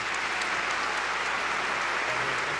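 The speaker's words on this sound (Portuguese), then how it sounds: "Palmas." Applause from a lecture audience at a happiness congress as a musician is called to the stage, a steady broadband wash of clapping at moderate level with no talk over it.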